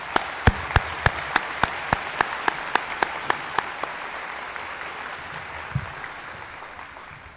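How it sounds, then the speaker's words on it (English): An audience applauds at a high school graduation ceremony: broad crowd clapping with a run of sharp, evenly spaced individual claps that thin out and fade over several seconds. "Can we have a round of applause?"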